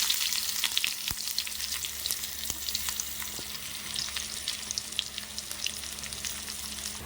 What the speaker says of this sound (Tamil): கடுகு, கடலப்பருப்பு, வெங்காயம், வரமிளகா, கருவேப்பிலை எல்லாம் போட்டு தாளிச்சுக்கிட்டேன்